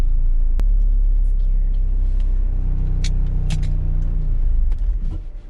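A manual transmission car pulls away from rest, a deep low engine rumble inside the cabin rising gently as gas is applied, with a few faint clicks and rustles before the drone fades.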